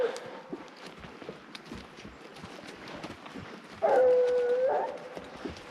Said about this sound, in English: They're all barking on it, even Fat Lori, even Jumpin' Jack.